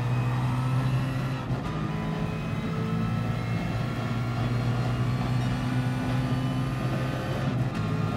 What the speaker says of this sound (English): I've just got to keep really driving aggressive.